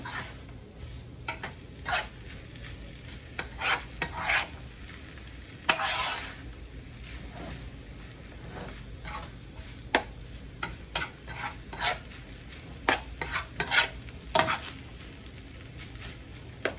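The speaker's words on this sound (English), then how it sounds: "you really just want to let that cook. Fry some more." Shrimp fried rice cooking in a pan, a low, steady frying hiss overlaid with irregular spatula scrapes and taps, fairly quiet and close, with no talking.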